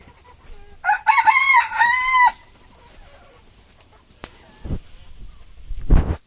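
A rooster on a small farm gives one loud, clear crow close by, followed by a few short thumps and rustles in a fairly quiet setting.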